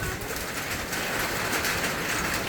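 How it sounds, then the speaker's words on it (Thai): Steady, dense hiss of heavy rain pouring down continuously, close and loud, with no voices. "มาแล้ว ฝนมาแล้ว"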